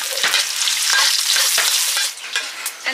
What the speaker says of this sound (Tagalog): Mag-gusa tayo ng bawang at saka sibuyas.